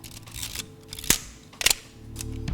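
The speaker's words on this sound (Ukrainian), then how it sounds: "давайте порівняємо, як звучать затвори Фойтлендера CL та іншої плівкової камери Pentax MX" Shutters of two film cameras, a Voigtländer Vito CL and a Pentax MX, are fired one after another: two crisp mechanical clicks about half a second apart, close and clear in a quiet room, with faint handling noise around them.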